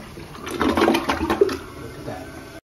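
A newly installed Kohler Highline Arc toilet flushes during a test, with a rushing swirl of water that swells quickly, then tapers into a gurgling refill before cutting off.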